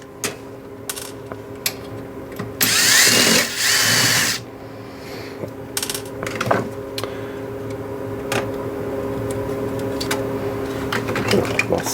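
Screws being driven out of an NAD 2200PE amplifier during restoration, a brief whirring tool burst followed by scattered clicks and small metallic taps against a steady background hum.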